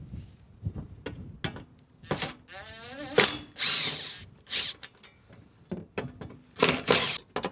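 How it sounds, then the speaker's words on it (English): A small power driver or drill whirs in short bursts while two small screws are removed from a car cover, with clicks and handling noises between the runs, close and clear and without talk. "we have 2 little screws here and then the cover should come off"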